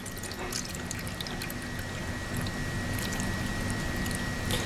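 TAE running buffer is poured into a gel electrophoresis tank, giving a steady liquid pour with light trickling splashes throughout, close and continuous.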